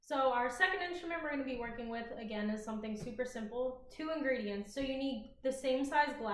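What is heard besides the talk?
None of the usual background noises is heard.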